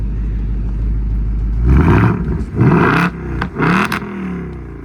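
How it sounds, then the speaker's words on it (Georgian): A 2025 Ford Mustang Dark Horse V8 idles low, then revs up sharply in several loud bursts, each throttle blip rising and falling, with a deep rumble between. "ეხა ხმასაც მოგასმენინებთ ამ მანქანის"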